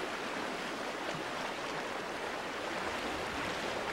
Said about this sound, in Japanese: 白く波立つ瀬